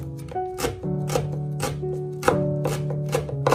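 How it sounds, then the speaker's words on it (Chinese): A knife chops bird's eye chilies into thin rings on a cutting board, crisp close-up strikes in an uneven rhythm of roughly a dozen cuts, with no talking. "把辣椒疤去掉以后再把它切成小圈"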